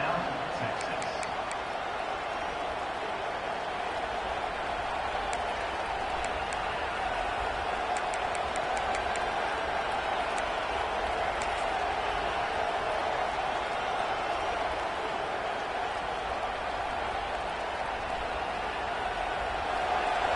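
A big stadium crowd in College Football 26, at a Michigan at Texas game near the goal line, keeps up a steady roar beneath continuous play-by-play commentary.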